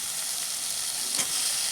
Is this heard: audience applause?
no